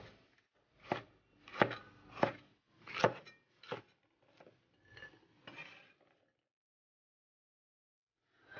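A knife chops chili peppers and tomatoes into chunks on a board while preparing Shaanbei knife-cut noodles with a pork topping: about eight sharp, close thuds in an uneven rhythm, then quiet.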